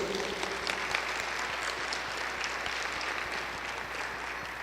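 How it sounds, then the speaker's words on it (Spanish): A congregation at a Catholic preaching gathering claps together in sustained, even applause from a crowd of many hands, steady throughout with no break. "denle el aplauso al Señor"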